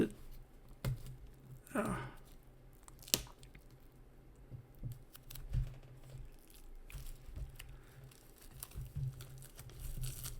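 Trading card pack torn open by hand without scissors, a pack with smaller packs inside, giving brief crinkly rips and crumpling foil close by, in short bursts with pauses between.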